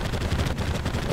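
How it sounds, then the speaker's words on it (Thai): Endgame weapon in Terraria with the Thorium Mod firing rapid explosions, a dense, continuous crackling barrage of blasts lasting about a second, fairly loud and without speech. "ดูแล้วคือมันระเบิดรอบข้างด้วยนะผมทุกคนดูดิมันระเบิดมาถึงตรงนู้นเลยนะ"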